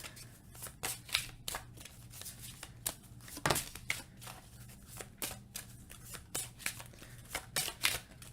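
Oracle cards are shuffled in a steady series of crisp riffling bursts, close and fairly quiet, with a soft low hum underneath and no talking.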